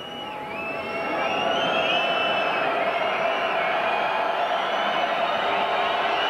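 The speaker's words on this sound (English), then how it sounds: "Great cheer went up as Leeds were caught offside." Rugby league stadium crowd at Halifax Blue Sox versus Leeds Rhinos in 2001 swelling into a sustained roar of cheering and whistles after Leeds are caught offside, loud and continuous from a large distant crowd.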